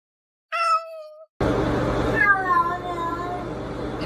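A cat meows twice close by, a short clear meow, a brief gap, then a longer wavering meow over steady background hum.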